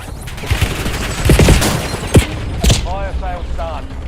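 Gunfire in Fortnite cracks out in loud, separate shots and short bursts, some sharp and booming, over a busy game soundscape with brief voice-like sounds near the end.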